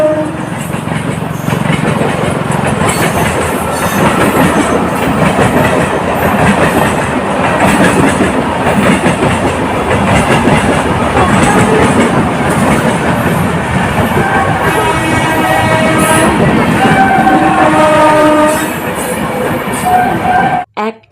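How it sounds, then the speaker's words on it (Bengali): Trains running past a railway crossing gate, including a goods train, with loud continuous rumbling and rhythmic clickety-clack of wheels close by, some squealing near the end. "একটা সময়ের মধ্যে দেখো 3টে ট্রেন চলে গেল।"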